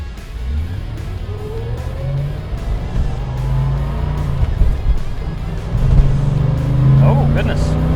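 A 1990 Chevrolet Corvette pulls away and builds speed, its engine note climbing steadily beneath wind and road noise, moderately close. Excited voices talk over the acceleration.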